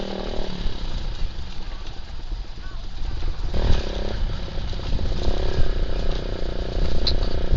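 A motorcycle engine drones steadily while riding over a rough, bumpy road near Real, Quezon, with rattling and jolts throughout.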